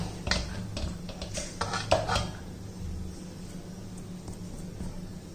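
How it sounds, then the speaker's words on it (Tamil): Ragi dough being scraped out of a pan into a bowl, a few close metallic scrapes and clinks of a spoon against cookware early on, then quieter handling noise. "மாவு ஃபுல்லாக எடுத்து விட்டுருவோம் இதை எடுத்து நம்ம பவுலில் மாற்றிக்கிடுவோம்"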